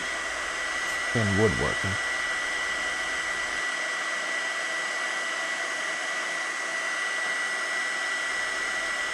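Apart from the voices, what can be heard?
heat gun blowing on spalted ash wood slab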